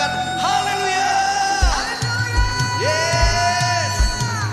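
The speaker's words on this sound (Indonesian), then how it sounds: "Kasih tepuk tangan paling dahsyat. Sorakan haleluya." A church congregation cheers and whoops, loud sustained shouts and tonal yells rising and falling over a dense crowd roar, with some clapping mixed in.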